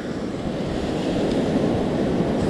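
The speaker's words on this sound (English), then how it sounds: "Surf is kind of calm tonight." Calm night surf washing steadily onto an ocean beach, a continuous close rush of breaking waves with some wind buffeting the microphone, no voices.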